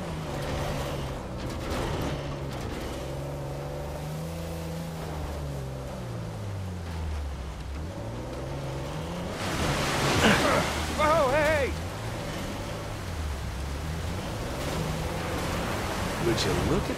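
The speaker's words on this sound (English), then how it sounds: "Cave behind a waterfall." A waterfall roars steadily inside a cave in Uncharted 4, a broad rushing wash with deep rumbling game music underneath and a brief louder surge midway.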